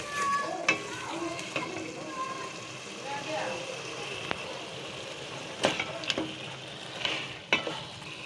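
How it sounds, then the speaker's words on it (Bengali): Masala and chicken pieces frying in a pan give off a soft, steady sizzle, broken by the clatter and scrape of a spoon stirring at intervals, heard fairly close with no talk. "এখন ভালো করে সেটা মশলাটা মাংসের সাথে মিক্স করতে হবে।"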